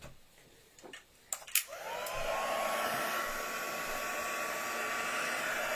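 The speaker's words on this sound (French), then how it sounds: "on prend notre pistolet chauffant" Heat gun melting embossing powder on a watercolor painting, a few small clicks and taps followed by the blower switching on and running as a steady whirring hiss to the end.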